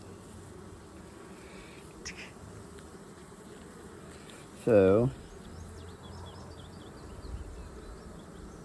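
Carniolan honey bees hum with a low, steady buzz around an open hive, close and quiet, with one brief louder voice part way through.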